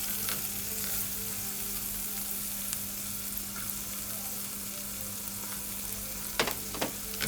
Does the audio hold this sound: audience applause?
no